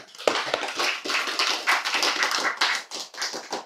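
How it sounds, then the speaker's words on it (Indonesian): Audience clapping in a religious lecture hall, a dense burst of hand claps with uneven rhythm that swells and dips for a few seconds, fairly close and loud, with no talk over it. "Tepuk tangan."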